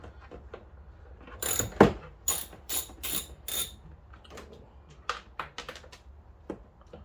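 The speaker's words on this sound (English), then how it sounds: "And just go in with your 10mm and tighten them up or down." A 10mm ratchet tightens the nuts and washers of a C6 ZR1-style spoiler being installed on a C5 Corvette, giving a quick run of sharp clicking bursts near the middle, then a few scattered ticks, close and clear with no talk.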